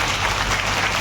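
A crowd at a public event in Delhi applauds, a dense, continuous wash of clapping filling the whole moment at moderate loudness.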